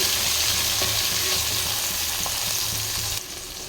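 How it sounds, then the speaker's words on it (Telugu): Tomatoes being stirred into hot oil in a pan for Telugu-style plain kushka, a steady close sizzle with soft scraping stirs that drops away sharply near the end. "అలాగే టమాటాస్ కూడా వేసేసి కొంచెం ఇలా కలిపేసుకోండి"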